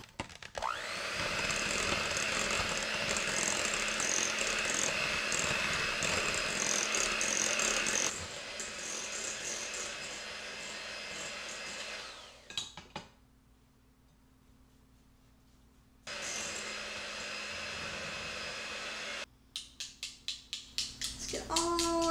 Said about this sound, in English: I've got my electric hand mixer here. I'm going to mix this for 2 minutes until it's nice and combined